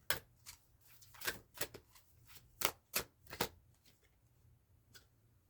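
Oracle cards handled and shuffled during a tarot reading, a sparse series of soft, close slaps and flicks separated by quiet gaps.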